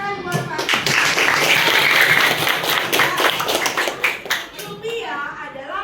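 Children in an elementary school classroom in Manado clap for their teacher in a quick burst, the clapping rising and then fading, with children's voices and chatter throughout.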